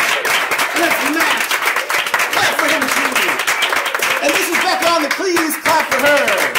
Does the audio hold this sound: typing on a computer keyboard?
no